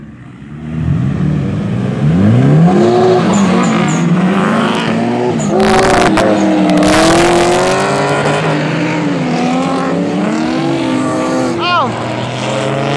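Cars drift at the 2019 Import Carlisle show, tires squealing in long rising and falling screeches over loud revving engines, with several pulls sweeping past close by and crowd voices audible in the background.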